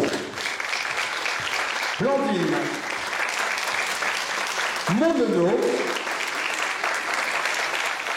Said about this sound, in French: on peut applaudir nos 3 solistes